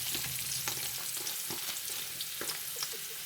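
Chopped whole onion frying in hot grease in a pan for dirty rice, a steady close sizzle with crackles and occasional stirring clinks, no talk.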